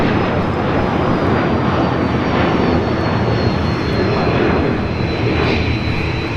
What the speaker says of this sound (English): That was American 613 taking off to Chicago.